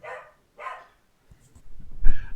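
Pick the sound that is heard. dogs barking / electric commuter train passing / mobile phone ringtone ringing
dogs barking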